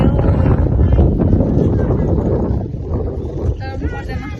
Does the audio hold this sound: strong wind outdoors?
yes